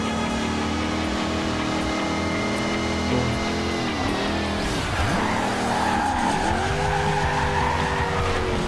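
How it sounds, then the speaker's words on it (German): A car drifting in the racing game Forza Horizon 2 gives long, wavering tire squeals over a steady engine drone. The pitch swoops and dips as the slide continues, with no voices. "Komm, das war ein großartiger Drift."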